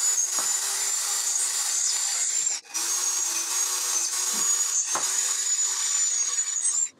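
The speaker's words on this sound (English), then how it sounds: "So we need to drill 8 holes." Small drill boring holes for the legs of a Halloween spider resin charm, a steady high whine running continuously close up, briefly stopping and restarting.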